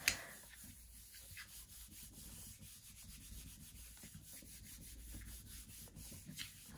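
Laser print transfer being rubbed by hand onto a gelli plate, giving a steady, faint dry rubbing and scuffing that runs continuously at close range with no talking.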